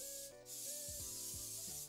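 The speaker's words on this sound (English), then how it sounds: "Spray that pan, nice and oily." Cooking oil spray hisses onto a cake pan for coffee cake in a few short, close bursts, with a soft rubbing sound in between.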